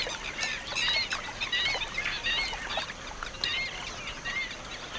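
A group of spot-billed ducks call repeatedly in harsh, overlapping quacks and honks, moderately close, with no talking, in India's desert.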